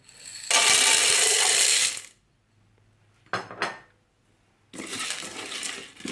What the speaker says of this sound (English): And then mix it up good and spread the corn evenly, the corn kernels.